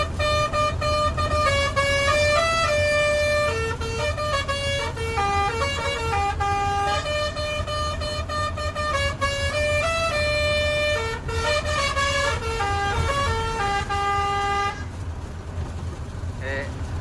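A loud musical truck horn plays a continuous song tune, its bright tones stepping through a melody with brief pauses, steady and close throughout.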